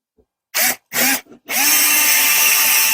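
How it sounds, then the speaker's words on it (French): A power drill driving a screw to fix a bipod into a table, starting with two short bursts and a tiny blip, then settling into a loud sustained whir up close. "Là, je vais le visser dans la table juste pour voir s'il y a une amélioration."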